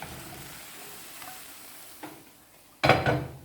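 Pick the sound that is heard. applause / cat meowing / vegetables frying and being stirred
vegetables frying and being stirred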